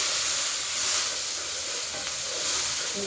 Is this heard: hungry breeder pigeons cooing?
no